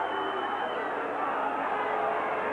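A rugby crowd at a 1995 World Cup match between New Zealand and Papua New Guinea, a distant sustained roar of many voices urging the referee, steady and fairly faint with no break.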